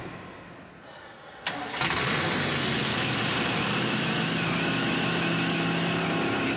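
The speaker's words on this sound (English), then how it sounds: "670-horsepower Budweiser Thunderbird." The 670-horsepower Budweiser Thunderbird NASCAR race car fires up: a quiet lead-in, a sharp crank and catch, then a loud, steady engine roar that holds without a break.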